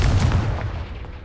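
Confringo fire spell blast in the video game Hogwarts Legacy: a single heavy, booming explosion at the start, loud and close, rolling off into a fading rumble with no talk over it.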